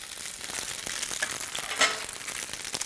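Tofu fries in oil in a hot pan, a steady crackling sizzle with small pops and spatters from the water still in it, close and even throughout.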